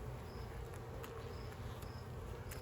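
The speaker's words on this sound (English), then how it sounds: "We're going to be seeing some bees in there." Honey bees buzzing in an open hive during an inspection, a steady, close, continuous drone with a few faint ticks and bumps on top, no talking.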